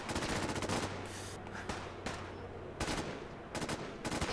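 Gunshots in Fallout 4 (Nuka World), about half a dozen sharp, loud cracks fired at uneven intervals. A low rumbling background runs between the shots.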